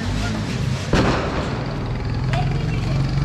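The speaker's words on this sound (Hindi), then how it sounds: "इको फ्रेंडली पटाखे फूट रहे" Eco-friendly firecrackers bursting outdoors during a Diwali celebration: one sharp pop near the start and a fainter crack later, over a steady low rumble of crowd noise and voices talking.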